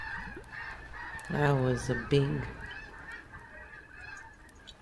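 Several geese honk in quick bursts at close range, with louder calls clustered around the middle, while a person speaks briefly over them.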